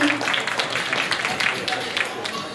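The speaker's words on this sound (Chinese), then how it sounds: "掌声鼓励一下啊" An audience claps in applause during the awards ceremony of a summer leg-beauty queen pageant final: a steady, dense patter of many hands, moderately loud, running throughout with voices mixed in.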